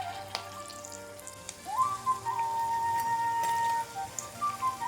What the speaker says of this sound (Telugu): నూనె కాగిన తర్వాత బొండాలు వేద్దామండి